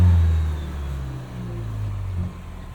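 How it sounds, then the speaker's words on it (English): A 2024 Toyota Tacoma's 2.4-liter turbo four-cylinder settles from a rev into a low, fading engine hum, with a faint thin turbo whistle in the opening moments. "You can hear a little bit of turbo whistle there."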